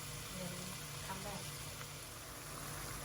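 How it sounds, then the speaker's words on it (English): Asparagus and onion fry in a pan for a Thai pad pong garee with prawns and squid, a steady, even sizzle that holds at one level throughout with no talk. "it's been sizzling away for about 5 minutes, which makes the asparagus and the onion softer"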